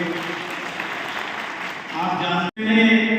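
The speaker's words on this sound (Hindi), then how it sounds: "जोरदार तालियों से उनका स्वागत करिए।" An audience at a district-level traders' convention claps loudly to welcome a minister, a dense wash of applause that swells and then cuts off briefly near the end, with a voice heard over it.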